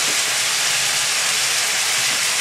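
Salmon simmers in a thick, dark, syrupy sauce in a pan for an Indonesian sticky salmon dish, giving a steady, dense sizzling hiss that holds evenly throughout with no voices.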